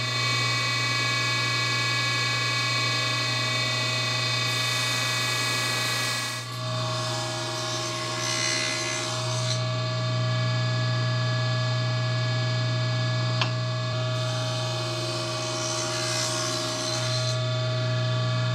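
A table saw cuts wood for a cabinet door, a loud steady motor whine with tonal hum that shifts in pitch as the blade bites and passes through, heard up close with no voices.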